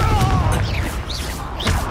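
Confringo explosive spell from the video game Hogwarts Legacy in a combat scene, with loud booming impacts and whooshing bursts packed closely together over a busy, dense background of game effects.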